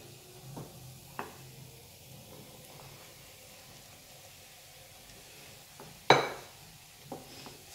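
Ground chicken being stirred into a potato mixture in a pan, with a soft background sizzle and a few sharp clinks and scrapes of a utensil against the pan, one louder clatter near the end.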